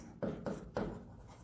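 Marker or chalk strokes on a classroom board during a lesson on atomic mass: three short, close scratching strokes in quick succession, then quiet.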